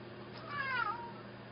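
A house cat lets out a single drawn-out, whiny meow, close and fairly clear against a quiet room.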